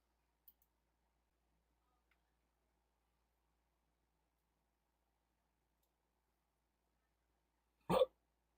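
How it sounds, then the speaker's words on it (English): A single sharp hiccup bursts out near the end, loud and close, after several seconds of near silence broken only by a couple of faint clicks. "Oh man, got the hiccups."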